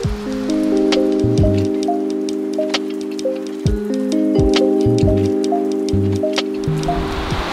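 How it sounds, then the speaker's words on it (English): Loud, dense heavy rain patters on a boat dock roof during a storm on a lake, with sharp drips ticking through, while a melodic tonal pattern plays steadily underneath. "This is loud. Really loud, like really, really loud. But it's better than being out in the rain"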